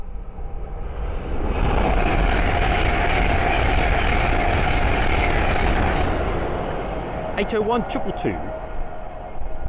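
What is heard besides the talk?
Hull Trains class 800 train passing at full speed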